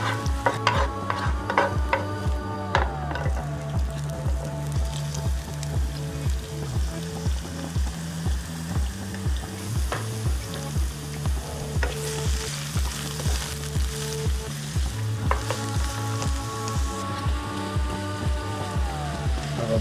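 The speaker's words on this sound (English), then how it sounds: "So we're starting our cooking. Beginning chopped garlic." Chopped garlic fries and is stirred in hot oil for home-style handmade noodles, a steady loud sizzle with repeated rhythmic scraping strokes of the utensil throughout, close and alone with no talk.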